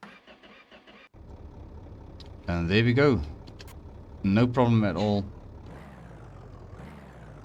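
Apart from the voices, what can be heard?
rebuilt diesel engine starting and running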